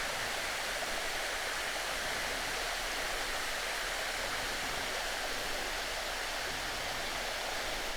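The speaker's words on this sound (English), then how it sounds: "as you can hear, it's got wonderful sounds for waterfalls" A waterfall at a scout camp gives a steady, even rush of falling water, an unbroken broadband roar at moderate volume with no pauses or other sounds.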